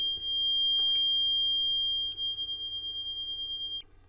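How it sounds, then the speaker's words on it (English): A building's fire alarm sounds as one steady, piercing high tone that holds for the whole stretch, with a couple of tiny breaks, over a low background hum. "right as this CG pops up, the fire alarm goes off in my building"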